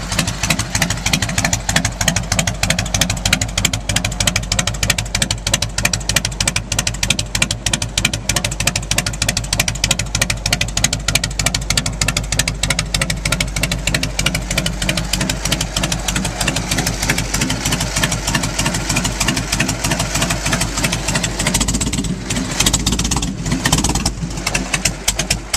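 A cold 1998 Harley-Davidson Heritage Softail Springer engine idles loudly nearby with the choke slightly out, a steady, slightly uneven loping pulse, a few revs breaking the rhythm near the end.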